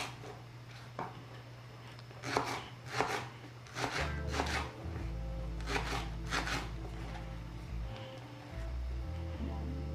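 Big green onions are sliced with a knife on a board in a handful of crisp, close cuts, irregularly spaced and clustered in short bursts, over a low background hum with no speech.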